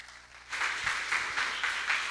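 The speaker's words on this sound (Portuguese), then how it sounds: "Você pode aplaudir o Senhor bem forte?" A church congregation claps loudly together during a live Brazilian worship service, the dense applause rising suddenly after a quiet moment and continuing steadily in loose rhythmic surges.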